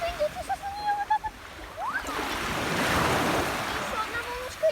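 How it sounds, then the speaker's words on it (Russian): Sea waves washing ashore on a beach, a broad rushing swell building and fading under wind noise, with a child-like voice and whistling tones drifting over it. "Еще одна волночка идет."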